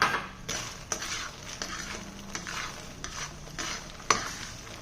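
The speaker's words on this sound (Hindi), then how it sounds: "और मखाने तल लेंगे, हम मखाने भून लेंगे" Fox nuts (makhana) roasting in ghee in a pan, stirred with a spoon: soft frying crackle with repeated scraping strokes and a few sharp clinks of the utensil against the pan, close and moderate in volume, no talk.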